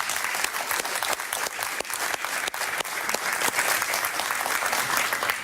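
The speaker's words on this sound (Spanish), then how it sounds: "Un aplauso para Pablo, por favor." A television studio audience on a Spanish-language talk show applauds a guest with brisk, continuous clapping and crisp individual claps, sustained and fairly close throughout, with no talking.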